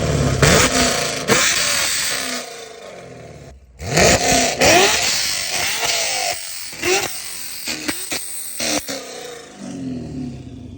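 A 2019 Camaro SS with Texas Speed headers, catless with an X-pipe, revving hard in loud bursts that rise and cut off repeatedly, close and aggressive with crackling between blips.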